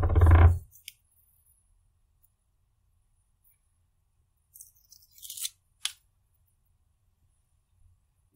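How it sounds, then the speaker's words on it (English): A knife cutting off the remaining part of a board for PCB milling, a sharp crunch at the start, then a quiet pause and a few brief scraping cuts later on. "take this knife. So then cut the remaining part off."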